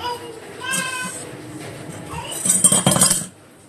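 Breakfast dishes and steel utensils are washed at home. A voice is heard early on, then a short burst of clinking and clattering crockery and cutlery comes near the end before it falls quiet.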